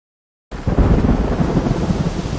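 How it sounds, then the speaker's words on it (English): A heavy thunderstorm in an AI-generated scene starts abruptly after a moment of silence, then deep rumbling thunder rolls under dense, steady rain. The sound is loud and close, with no talk. "Storm's not letting up out there."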